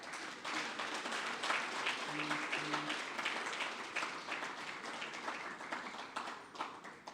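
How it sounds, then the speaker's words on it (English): An audience claps together at a sustainable finance launch event: dense, steady applause fills the whole stretch at moderate loudness, with no voices standing out over it. "Is that a clap befitting of a funder?"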